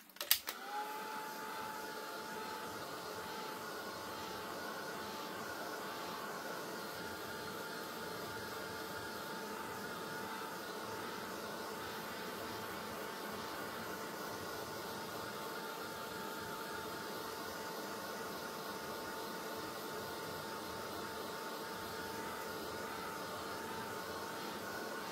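Hair dryer blowing steadily on a collage page, a close, constant whirring roar with a faint motor whine that starts abruptly and holds unchanged throughout, no voices.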